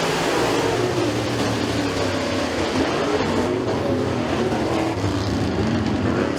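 Race cars roar around Stateline Speedway in a heat race, a dense continuous engine drone that stays loud and steady throughout with no pause.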